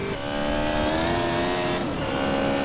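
A motorcycle engine in a modded GTA game, the Venom bike running on the PCJ 600's engine sound, roars loud and close with a steady high-pitched revving whine that holds for the whole stretch, with no talking.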